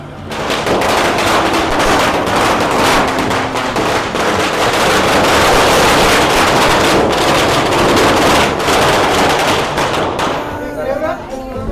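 Rapid string of firecrackers bursting loudly and continuously at a village celebration, a dense crackling barrage that fades out near the end, with voices faintly underneath.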